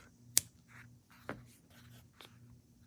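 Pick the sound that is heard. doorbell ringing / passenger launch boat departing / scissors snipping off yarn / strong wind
scissors snipping off yarn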